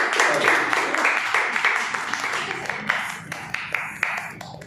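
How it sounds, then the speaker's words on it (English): Claps from the audience at a Toastmasters club meeting, a fairly dense patter that thins toward the end into a few separate, sharper claps. "Give him a huge round of applause."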